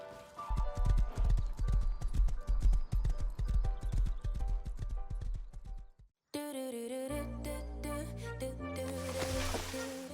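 Horse hooves clip-clopping in a steady galloping rhythm in the video game Rust, loud and close, then cutting out abruptly and giving way to game music.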